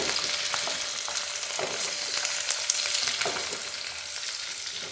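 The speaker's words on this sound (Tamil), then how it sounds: "இப்போ இந்த பூண்டு வதங்கும் போதே ஃபர்ஸ்ட் வந்து ரெட் சில்லி போட்டுக்கோங்க. இப்போ இதை நல்லா வந்து ஃப்ரை பண்ணி கொடுங்க." Garlic and red chillies frying in hot oil for a spicy garlic chutney: dense, close crackling sizzle that stays steady throughout, with occasional stirring scrapes, no voices.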